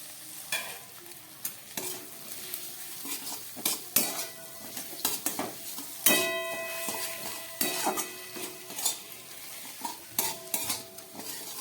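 Fried potatoes are tipped into a simmering bele fish curry and stirred, producing a soft sizzle under repeated close clatters and scrapes of a metal spoon against the pan.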